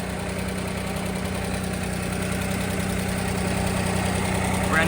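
A Daihatsu Midget's small engine idles steadily up close, a constant low hum with a faint rhythmic pulse and no talking.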